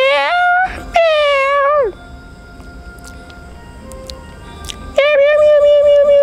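A human voice imitates a cat's meow, two drawn-out meows, a quiet pause, then another meow starting.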